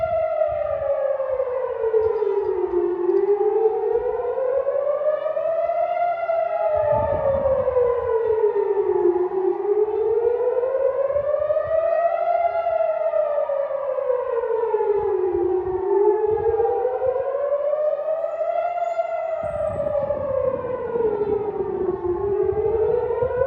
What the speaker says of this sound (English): A little surprised we haven't had a siren yet.